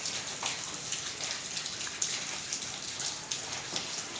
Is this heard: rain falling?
yes